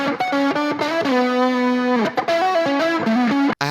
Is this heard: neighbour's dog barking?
no